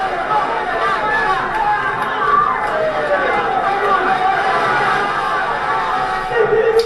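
A large, dense crowd roars and chatters without pause as rugby player Tana Umaga enters Stade Félix Mayol for his last Top 14 match, with a loud, steady wash of voices and faint whistles.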